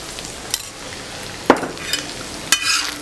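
Chilli powder, turmeric and salt being mixed into egg kothu parotta in a hot pan: a soft steady sizzle with a few sharp scraping knocks of a spatula against the metal, close up and with no talking.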